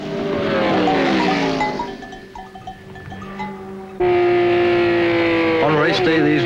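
A race car driven flat out on the road course of the 1972 Targa Florio: a loud, steady engine drone with shifting pitch that drops briefly, then surges and revs up sharply near the end.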